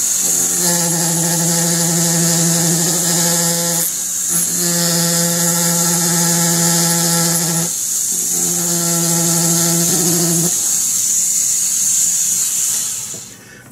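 A high-pitched rotary tool whines steadily, bogging down in three long bursts as it grinds against a metal lawn mower part, loud and close.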